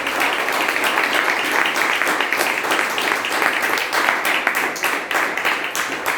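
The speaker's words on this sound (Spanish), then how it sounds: "Démosle un aplauso a nuestro Rey, a nuestro Señor." Sustained applause from a large church congregation indoors during a service, steady and dense, with faint voices mixed in.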